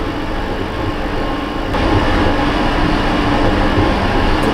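A Berlin subway train of the F79 and F90 series rumbles loudly and steadily in the MSTS train simulator, with a continuous wheel-and-motor roar that swells slightly as it approaches the station.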